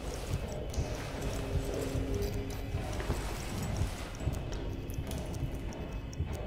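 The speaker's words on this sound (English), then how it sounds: "He's stomping around." A monster in Amnesia: The Bunker stomps around, heard as a steady run of dull, heavy thuds under a low droning ambience.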